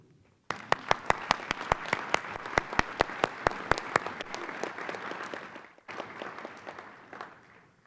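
Audience applause at a traffic-safety conference awards ceremony, beginning with loud, distinct individual claps that swell into a dense, steady ovation, pause briefly, then resume more softly.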